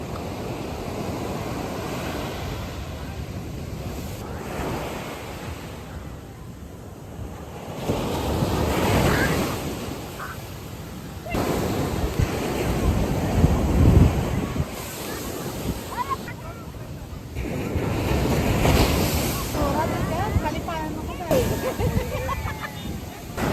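Strong sea waves roll and crash at Dwarka beach around sunset, a continuous loud surf that swells and recedes in surges, with heavy wind buffeting the microphone.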